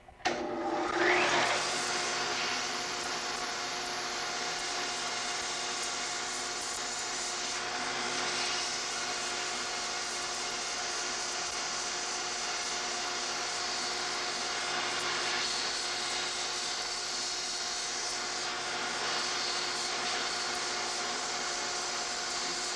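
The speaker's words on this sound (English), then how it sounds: "first grind off the tips of the hex nut so that it'll drop down inside the pylon" A belt grinder runs steadily, grinding the tips off a hex nut so it will drop inside a prosthetic pylon. A continuous, loud, even whine and rush holds for the whole stretch with no talking.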